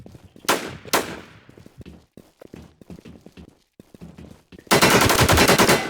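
Rapid bursts of automatic gunfire in a shooting video game, a couple of loud single shots early, scattered clicks and effects, then a dense sustained volley of fire near the end.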